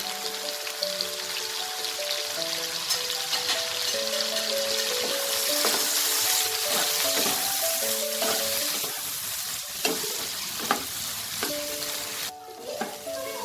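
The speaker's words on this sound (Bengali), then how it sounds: "এবার এই তেলেই আমি সয়াবিনগুলোকেও একটু ভেজে নেব" Soya chunks fry in hot oil with a steady, close sizzle and scattered pops, and faint tonal music plays softly underneath.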